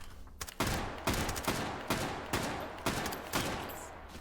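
Rapid bursts of video game gunfire, several loud volleys of shots in quick succession with short gaps between them, close and dominant with no talk.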